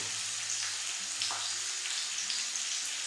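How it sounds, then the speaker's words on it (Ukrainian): Onion and crushed garlic frying in oil in a well-heated pan, giving a steady, even sizzle with faint crackles throughout, close and without speech. "І на добре розігріту сковорідку з олією викладаю цибулю"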